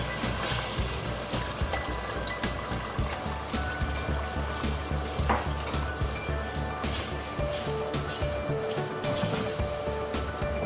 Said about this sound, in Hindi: तो अब मैं इसके अंदर टमाटो प्योरे ऐड कर रही हूँ।